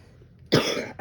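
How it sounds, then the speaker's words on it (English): A single sharp cough bursts out close and loud after a moment of quiet, followed by a brief trailing throat sound. "Again with my coughing."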